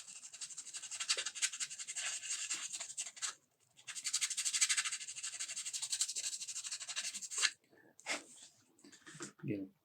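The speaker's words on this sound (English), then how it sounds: "Sandpaper. This is 400 grit, I think." Sheet of 400-grit sandpaper scuffing a plastic armor chest box, a soft, quiet, steady scratching that runs in long strokes with short breaks and a few faint handling noises at the end.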